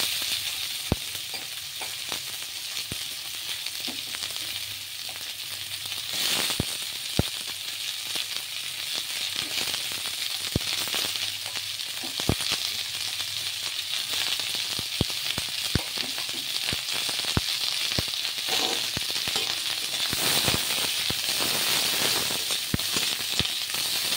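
Garlic, onion and capsicum fry in butter with a steady, close sizzling hiss that carries on throughout, broken by frequent sharp clicks and scrapes of stirring, with no voices.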